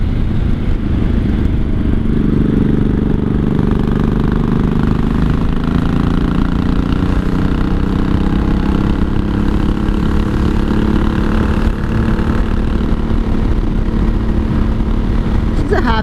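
A 1983 Honda Shadow VT750C motorcycle engine drones loud and steady while riding, its pitch slowly climbing and easing, with rushing wind noise mixed in throughout.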